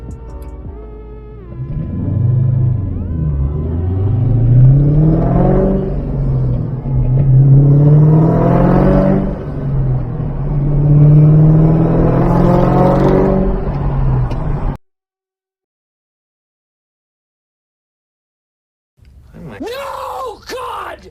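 A 2003 Ford SVT Cobra Terminator drives with its engine droning and rising in repeated revs through the gears, loud and close, then cuts to silence before a brief burst of sound at the end.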